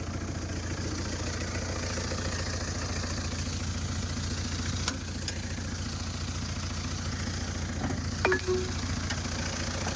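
Isuzu Trooper engine running rough with a misfire, a steady low uneven idle drone with a boat-like chug, heard from inside at a moderate level with a couple of faint clicks near the end.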